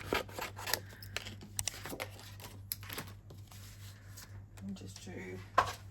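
Scissors snip card paper down to size during card making, a run of quiet crisp cutting and rustling sounds close to the mic, soft and irregular, with some faint voice in the background.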